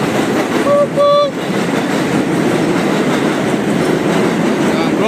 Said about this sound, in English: Here, the J train, that's the J train.